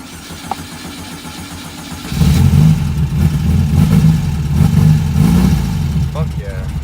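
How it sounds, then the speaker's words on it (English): A 1969 Volkswagen Beetle engine, just fitted with a replacement starter, cranks and catches after about two seconds, then runs loud and uneven at a rough idle close up. "I got the battery connected, so let's hope this thing starts."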